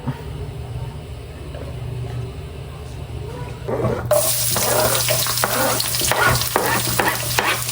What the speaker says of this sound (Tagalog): Lulutuin na po natin yung sinangag na mani. Lagyan na po natin ng mantika.